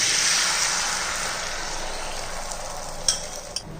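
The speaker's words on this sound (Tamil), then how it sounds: "நம்ம அடித்து வச்சுருந்த முட்டையை வந்து நம்ம இந்த கடாயில் ஊற்றிடுவோம்." Beaten egg hitting a hot, lightly oiled iron kadai, a loud close sizzle that starts strong and slowly eases, with a couple of small clicks near the end.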